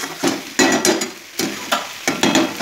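Banana stem frying in a pan over a gas flame, with a steady oily sizzle broken by several loud scraping stirs at irregular intervals, close and clear with no talking.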